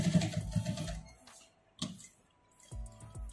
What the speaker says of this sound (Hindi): दूसरी साइड भी सिलाई करेंगे